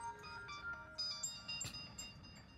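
A mobile phone ringtone plays a quiet, bright electronic melody of short rising and falling tones in quick succession, faint and alone with no talk over it.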